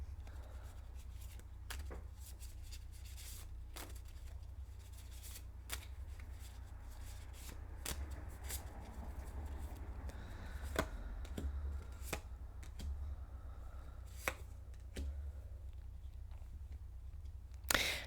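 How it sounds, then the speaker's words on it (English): Cards are shuffled in a quiet room, with repeated crisp riffling bursts and soft taps at an uneven rhythm, close and clear, with no talking. "Let's shuffle a little bit more."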